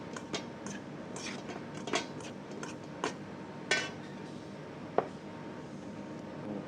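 Raw chicken being mixed with about a teaspoon of salt in a bowl: a handful of sparse, light clinks and taps of a utensil against the bowl, spaced a second or so apart over a quiet room background, with no talking.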